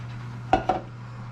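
A spoon clinks twice against a pot while cheese is stirred into pasta for a homemade hamburger helper dish. The two quick, close metallic taps sit over a low, steady hum.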